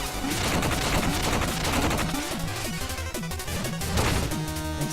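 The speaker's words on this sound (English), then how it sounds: "Every bomb I throw eliminates the floor beneath me." Repeated bomb blasts crumbling the floor in the video game Shovel Knight: Plague of Shadows, a dense run of loud crackling explosions and crashes over busy game music, with no talking.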